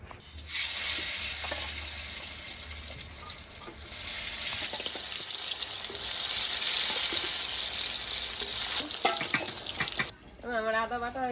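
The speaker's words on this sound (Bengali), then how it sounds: "তেল গরম হয়ে গেছে, এবার বেগুনগুলো দিয়ে দেবো।" Eggplant pieces dropped into hot oil in a wok, a loud continuous crackling sizzle close up with bursts of spitting, ending in a brief rush of running water and a voice.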